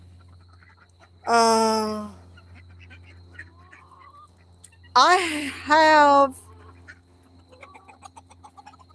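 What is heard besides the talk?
ducks quacking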